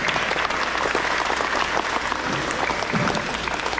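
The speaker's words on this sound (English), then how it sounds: "So let's give her a round of applause." An elementary school audience gives a steady round of applause at an awards ceremony, a dense wash of many hands clapping at once, loud and even, with faint crowd murmur underneath.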